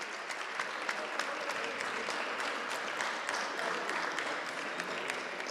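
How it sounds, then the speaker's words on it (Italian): A home crowd in a basketball arena applauds after a women's game, a sustained, even roar of many hands clapping, loud and continuous throughout with no distinct voices. "Arriva qui l'applauso meritatissimo di tutto il Palaparonetto nei confronti delle sue ragazze"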